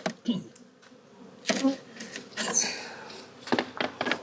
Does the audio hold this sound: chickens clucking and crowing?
no